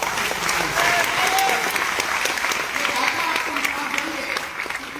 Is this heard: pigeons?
no